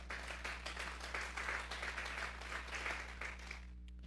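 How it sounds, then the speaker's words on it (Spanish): A church congregation applauds during a Sunday afternoon service, a steady, fairly faint round of many clapping hands over a low hum that stops abruptly near the end. "Vamos a darle un fuerte aplauso pues al Señor esta tarde."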